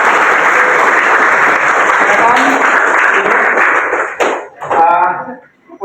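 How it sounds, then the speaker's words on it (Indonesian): Classroom pupils clap together loudly for about four seconds, a bright dense burst that stops abruptly, followed by a teacher's voice speaking. "Tepuk."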